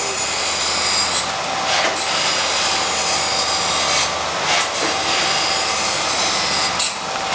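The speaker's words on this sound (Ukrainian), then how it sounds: "І шліфуємо." Steady abrasive rubbing of sanding continues throughout, a dense even rasp with slight surges, close and fairly loud, no voices.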